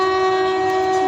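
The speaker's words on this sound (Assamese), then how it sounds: "এতিয়া মানে আহি আছে ট্ৰেইনখন এইখন" A Rajdhani express approaches Sorbhog railway station in Assam, sounding a long, loud, steady horn with a strong sustained tone and harmonics over the rumble of the train.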